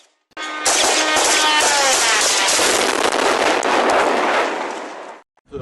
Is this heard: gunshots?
yes